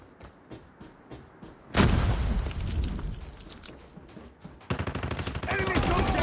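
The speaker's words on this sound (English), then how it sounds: "Grenade out!" A grenade blast in the mobile shooter Call of Duty: Mobile during a team deathmatch, a loud booming burst with a rumbling tail, framed by rapid gunfire bursts before and after.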